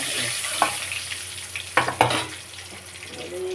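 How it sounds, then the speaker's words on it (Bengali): Pieces of pona fish fry in oil in a pan, giving a steady sizzle broken by a few sharp spatter and scrape bursts from stirring. "মাছের ফেলে দেবো তো পুরো ভালো করে ভাজবে অল্প করে ভাজবে"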